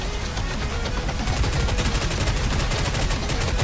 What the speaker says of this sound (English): Oh, I need to shoot these things.